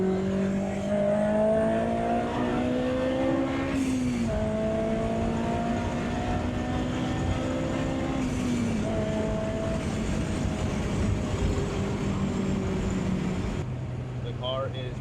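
A Honda S2000 on stock headers drives with a steady engine and exhaust drone whose pitch climbs through the gears and drops at each shift, loud and continuous for the whole stretch.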